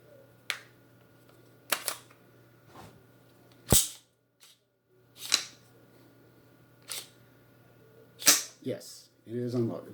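Daniel Defense M4A1 rifle being handled to confirm it is unloaded: a series of sharp metallic clicks and clacks, about eight spaced actions over ten seconds, close and fairly loud against a quiet room with a low hum.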